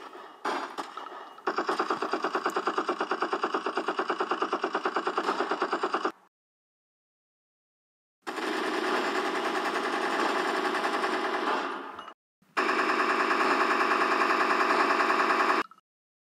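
Rapid gunfire effects in a toy army men battle: long sustained machine-gun bursts, loud and close, broken by a two-second pause and a shorter gap before further extended volleys, with no talking.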